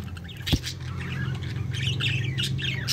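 Budgerigars at the nest chirp and squawk continuously, with a steady chatter of high calls and one brief sharp knock, close and fairly loud.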